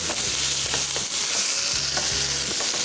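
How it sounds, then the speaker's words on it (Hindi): Chili chicken and vegetables fry and sizzle in a pan with a steady hiss, while a utensil stirs and scrapes in a few repeated strokes, close and loud, with no voices. "फ्राई होगा"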